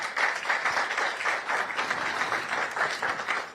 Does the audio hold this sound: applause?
yes